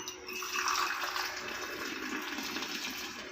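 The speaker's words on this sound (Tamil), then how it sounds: "டீ வடிகட்டிடலாம் வடிகட்டிடலாம் டீ நல்லா மணமாக இருக்குது இப்போ ஊற்றிடலாம்" Strained tea is poured in a home kitchen, a soft, steady stream of liquid splashing continuously for a few seconds, faint and close, with no voices.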